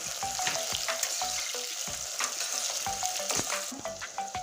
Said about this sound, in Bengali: এবার পেঁয়াজটা লাল করে ভেজে নেব